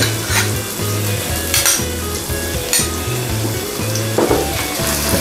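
Mackerel sizzles in a pan with chili sauce and butter while being mixed, a loud close frying hiss under rhythmic scraping and clinking of a utensil against the pan.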